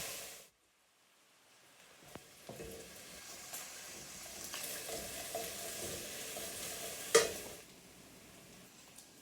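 Bacon fries in a pan for creamy potato soup, a soft continuous sizzle that rises after a brief silent start, with scattered faint crackles and one sharper clink near the end.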